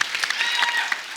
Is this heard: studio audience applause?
yes